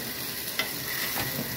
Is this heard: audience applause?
no